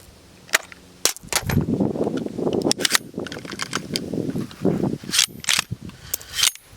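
A suppressed PSA JAKL rifle in 300 Blackout firing subsonic rounds outdoors: a string of sharp, muffled cracks at irregular intervals, some in quick pairs, over a rustling background.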